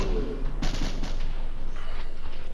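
A shotgun fires in the video game Project Haven with a spark effect, several sharp synthetic blasts in quick succession before the sound tails off into low ambience.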